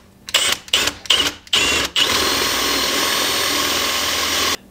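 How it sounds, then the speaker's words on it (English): Power drill boring through a teardrop-shaped corbel piece with scrap wood underneath: several short loud bursts of whirring and grinding, then a sustained close drilling run of a few seconds before it stops. "and I'm gonna take my drill"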